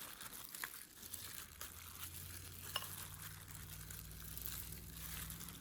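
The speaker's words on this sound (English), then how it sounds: "So we are just going to mix this shrimps," Raw shrimps are stirred by hand with black pepper and salt, a faint, steady wet squelching and crinkling with soft clicks against the bowl and a low background hum, no talking.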